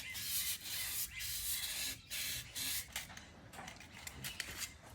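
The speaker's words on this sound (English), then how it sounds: "you can use some 600 wet and dry sandpaper to get some rust off around here" Rust is sanded off a Suntour XCM32 bike fork with 600-grit wet and dry sandpaper, making close, rhythmic rasping strokes that come in short, uneven bursts with brief pauses between them.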